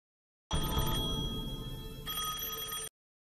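A telephone rings in an anime scene, a loud electronic bell trilling steadily for about two and a half seconds with a brief change in tone midway, then cutting off abruptly into silence.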